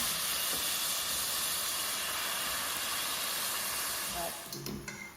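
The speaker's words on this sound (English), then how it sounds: "our pasta is al dente. We're gonna start adding that to the pan" Al dente pasta hits a hot pan with a loud, steady hiss that fills the whole moment, then eases off near the end amid a few light clatters.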